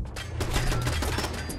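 Burst-fire gunfire in Fallout 4, a dense rapid clatter of shots packed into a short continuous volley, loud and close with no talk over it.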